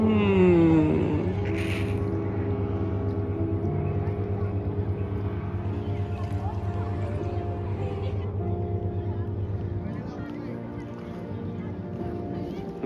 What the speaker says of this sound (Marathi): हे बघा तुम्ही, बोट बघा कशी चालली मस्त